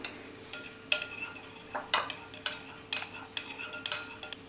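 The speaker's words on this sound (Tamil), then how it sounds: "இப்போ இது கூட சிந்தட்டிக் வினிகரை கலந்துக்கலாம். நல்லா மிக்ஸ் பண்ணிக்கணும்." Homemade fabric conditioner mixed with synthetic vinegar is stirred in a bowl, giving a steady run of sharp, clinking scrapes roughly every half second, close and moderately quiet, with no talking.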